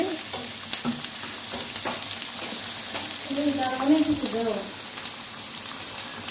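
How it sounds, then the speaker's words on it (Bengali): Onions and garlic fry in oil until reddened, as the base for a sauce to go with fried potatoes. A loud, continuous sizzle is broken by stirring scrapes, and a voice speaks briefly partway through. "পেঁয়াজ রসুন ভাজা হচ্ছে তার জন্য লাল করে"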